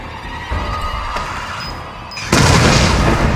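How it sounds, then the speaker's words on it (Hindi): A bomb blast in the horror game Resident Evil 7 hits as a sudden loud, broad boom that cuts in sharply and stays heavy and rumbling to the end, after a busier stretch of game noise. "ब्रूम धमाका"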